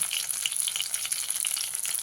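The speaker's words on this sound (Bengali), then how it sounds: "বাকি মাছগুলো সব আমি ভেজে নেবো" Pieces of bhola fish frying in hot oil give a dense, steady crackling sizzle, close and fairly loud, with no voices over it.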